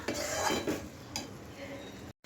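Carrot halwa being spooned from the cooking pan into a serving bowl: close scraping and clinking of a spoon against metal, a few brief sticky scoops, then a short silence at the end.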